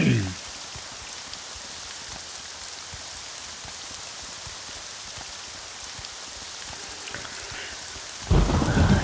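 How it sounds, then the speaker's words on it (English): Steady rain patters continuously while thunder rumbles in a video game, with a louder burst of rumbling at the very start and again near the end. "It's raining, thunder."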